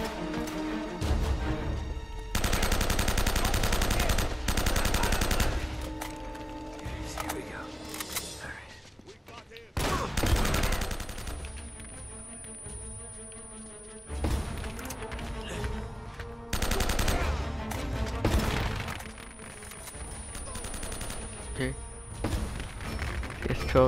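Bursts of gunfire from the Uncharted: Drake's Fortune Remastered campaign, loud, dense rattling volleys with crashes and impacts, broken by short pauses, while a player talks over the action.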